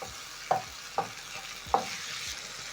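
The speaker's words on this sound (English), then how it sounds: "Add in 1 tablespoon of tomato paste and stir in as well." A spoon stirs tomato paste into a pan of tomatoes, onions and spices for a Kenyan lentil stew, making three soft scraping strokes over a quiet, steady sizzle.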